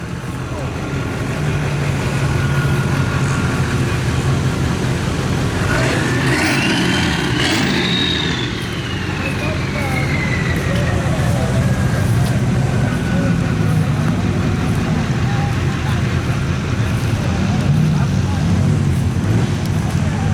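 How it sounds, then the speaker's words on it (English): A mini car rolls into the pits at a county fair demolition derby, its engine rumbling loud and steady throughout amid crowd and traffic noise, with one vehicle passing by midway. "Mini car rolling in."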